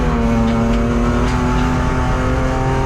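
A BMW race car on a qualifying push lap at Hampton Downs, its engine droning loud and steady with a strong low growl, heard from inside the car.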